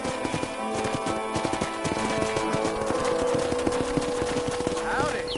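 Horse hooves clip-clop in a steady trotting rhythm, continuous and up close, with music and other game sounds from Red Dead Redemption on PS5 layered underneath.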